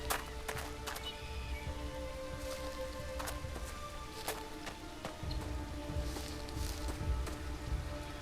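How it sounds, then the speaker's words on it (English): Rain in the game Hangry, a steady faint hiss of falling water with scattered light drop taps and clicks throughout, fairly even in level. "Look at this fucking rain."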